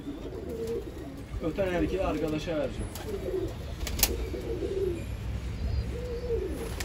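A male roller pigeon coos in repeated soft throaty phrases close by, while someone talks over and between the calls.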